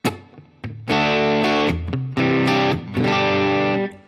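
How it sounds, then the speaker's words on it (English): Electric guitar played through a Line 6 Helix with a Dumble-style amp model and plate reverb, loud sustained distorted chords in three long bursts with short stabs before them, each ringing out into a reverb tail. "I have a reverb. Let's turn this reverb on. It's a plate."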